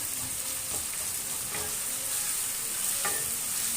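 Chopped onions fry in oil in a pan for a Karnataka village-style meal, a continuous close sizzle with a few soft stirring scrapes, no voices.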